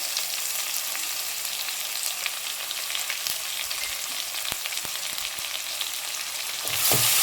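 Whole spices, including cinnamon, cloves, fennel and cardamom, fry in a pan for veg kurma with a dense, continuous sizzle up close and a brief stirring scrape near the end.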